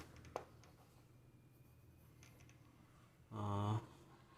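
Pen or chalk writes during a coordinate geometry lesson, a few faint scratchy strokes and taps, close but quiet, ending with a brief louder tonal buzz.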